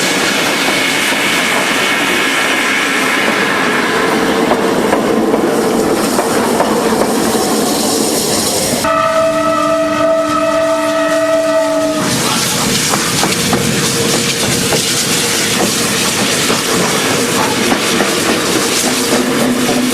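Chinese QJ steam locomotives moving along the rails in a steady, loud mechanical rumble and clatter, with a brief sustained multi-tone whistle partway through before the running noise resumes.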